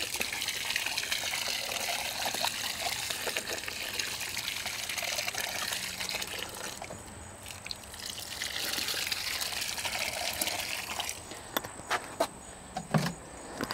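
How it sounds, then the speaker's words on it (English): Water from a garden hose pours steadily into a container on a brick patio, a continuous splashing gush with faint clinks and small knocks near the end. "I put the hose in into this uh, container. I fill the container"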